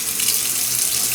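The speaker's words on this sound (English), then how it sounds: "Let's turn on the faucet." Water runs steadily from a newly installed bathroom faucet during a DIY remodel, a constant close hiss with no talking.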